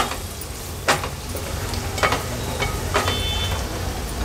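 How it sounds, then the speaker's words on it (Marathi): Turmeric and masala sauté in hot oil for a sea crab curry, a soft steady sizzle broken by three or four sharp scraping stirs of the spoon, close and alone without talk. "हळद आणि मसाला तेलावर छान परतून घ्यायचा आहे।"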